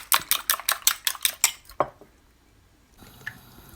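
Eggs beaten with cutlery in a dish: about ten quick rhythmic clinking strokes, close and crisp, then a final knock and near silence with faint background noise.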